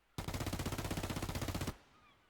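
A grenade going off in a competitive tactical shooter match, a sustained loud burst of rapid rattling blasts lasting over a second and a half before cutting off into quiet.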